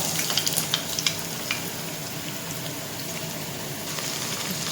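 Onion frying in hot oil over high heat, a steady dense sizzle with scattered crackles and pops, close and fairly loud throughout, with no voices.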